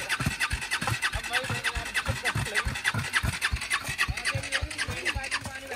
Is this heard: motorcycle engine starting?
yes